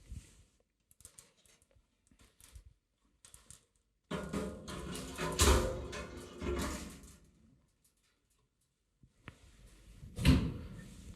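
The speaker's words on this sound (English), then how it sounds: "After closing the door, it is locking automatically." A Systronic CL420 stencil cleaning machine door shuts with a cluster of loud clattering thuds, then a short latching clunk as it locks automatically, set apart by near silence.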